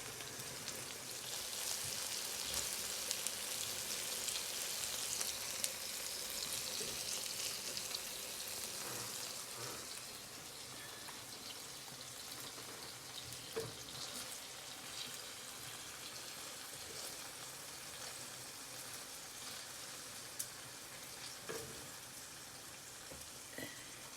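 Turkish Adana kebab skewers sizzling on a grill, a steady broadband crackle and hiss running continuously with a few sharper pops, fairly quiet and close, with no talking.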